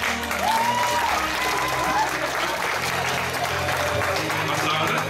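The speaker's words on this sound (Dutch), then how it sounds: "een hard applaus voor Tuur" Audience applause for a child during a hands-on electricity demonstration, a steady continuous clapping wash lasting the whole stretch, fairly loud, with a voice speaking over it.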